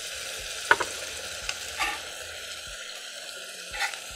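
Butter melts in a pan as the first step of a béchamel, giving a soft, steady sizzle close by with a few scattered clicks and scrapes and no talk.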